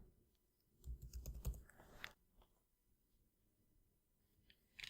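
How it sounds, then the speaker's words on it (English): Quick keystrokes on a computer keyboard typing a short word, a brief cluster of close, soft clicks followed by faint scattered taps in a quiet room. "Let's just type bookcase."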